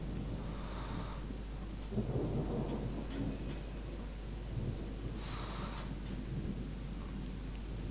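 Rain and rolling thunder in the video game Gothic 2: a constant wash of rainfall beneath low rumbles that swell and fade, with a stronger thunder burst near the middle and another later, no voices.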